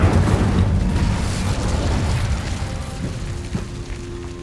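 Incendio fire spell cast in the video game Hogwarts Legacy: a loud, rumbling burst of fiery whoosh that fades over a few seconds, followed by faint mechanical clicks.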